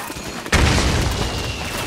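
Heavy gunfire in the video game Metal Gear Solid 4 starts abruptly as a dense, loud burst of rapid shots and booming impacts. The barrage carries on continuously to the end.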